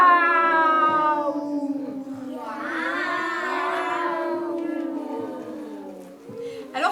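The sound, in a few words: person imitating cat meowing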